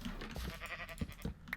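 A few short sheep bleats from the video game Minecraft, quiet and close, repeated in quick succession against faint background game sound.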